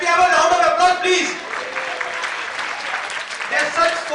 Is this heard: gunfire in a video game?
no